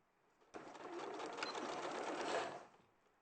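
A sewing machine top stitches fabric in one short, faint run of rapid, even needle clatter lasting about two seconds, with quiet room tone on either side.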